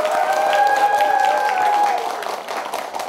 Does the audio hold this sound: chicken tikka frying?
no